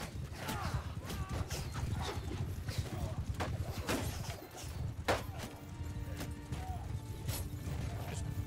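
Horse hooves clip-clop steadily in Mount & Blade II: Bannerlord amid dense battle din, with creaks and a faint whinny mixed into the busy game soundscape; a voice talks over it.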